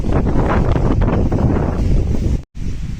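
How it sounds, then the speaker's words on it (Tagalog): Strong wind near a river with large waves roars and buffets the microphone in a loud, continuous rush, broken by a brief dropout near the end. "Ay, lakas ng hangin, oh."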